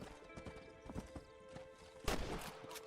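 Horse hooves in a Red Dead video game, a quick run of clip-clop hoofbeats with a louder thump near the end, fairly faint with no talking.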